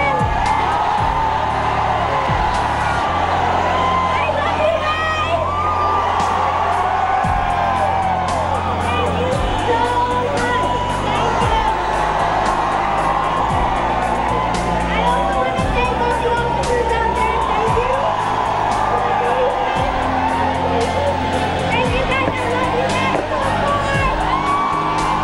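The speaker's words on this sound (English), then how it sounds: "the crowds chanted her name" A large crowd in Kochi roars for actress Sunny Leone, with loud, continuous cheering, whoops and shouted chanting from many voices that never lets up.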